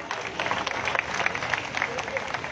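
An audience at a rally of government employees in Kangra district applauds with dense, sustained clapping throughout, a crowd murmur mixed in.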